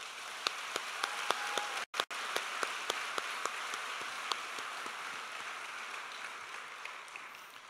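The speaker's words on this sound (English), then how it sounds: "Help me in giving them a warm round of applause." Applause at a university engineering graduation ceremony: a hall audience clapping steadily and fairly loudly for about eight seconds, with a brief dropout partway through.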